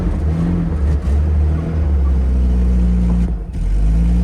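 A Datsun 280ZX engine idles steadily right after a fuel filter replacement, a loud, continuous low rumble that holds for the whole stretch with only slight dips and no talking.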